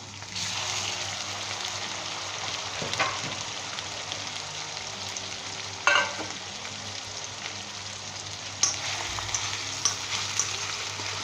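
Chicken frying in ginger garlic paste for a green chilli chicken dish sizzles steadily and fairly loud, with a few sharp spoon knocks and scrapes against the pan.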